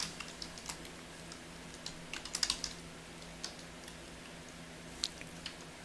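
Fingers typing on a computer keyboard while entering W-2 tax form data such as an employer EIN and name: sparse, quiet clicks in small bursts, with a cluster of faster keystrokes in the middle, over faint room hum.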